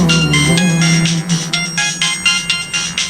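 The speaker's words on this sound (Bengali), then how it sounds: "সিম অন করতে না করতেই কে কল করে?" A mobile phone rings with an incoming call right after the SIM is switched on, close and loud, its melodic ringtone pulsing in short repeated phrases throughout.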